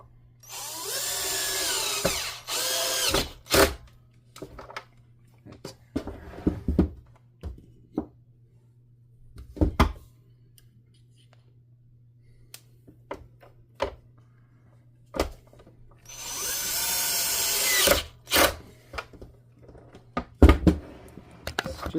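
A regular cordless power drill, not an impact driver, driving screws with a Phillips bit: two long loud whirring bursts with knocks and clicks of handling scattered between them, close by and without speech.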